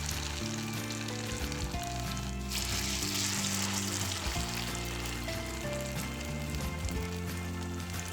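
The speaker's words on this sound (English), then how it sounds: "Heat a little oil in a pan. Scoop in the mixture and shape it into small round pancakes." Tofu and vegetable pancakes fry in a little oil in a pan, making a steady close sizzle and crackle that grows brighter for a moment and then settles, with no talking.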